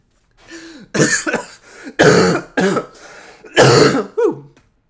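Throat clearing and coughing from a tickle in the throat: a soft throat rumble, then a series of harsh, close coughs in four bursts over a few seconds, no talk.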